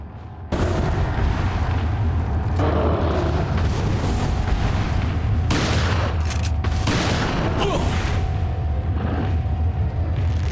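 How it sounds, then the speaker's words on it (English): Shotgun blasts from Resident Evil 4 boom over a dense, loud game soundscape, several sharp heavy shots spaced a second or two apart amid continuous rumbling noise. "Shoot a shotgun."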